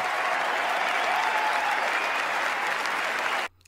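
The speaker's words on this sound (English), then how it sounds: "You can clap now." Steady, dense applause from many hands fills the space at an even, moderately loud level, then cuts off abruptly near the end into silence.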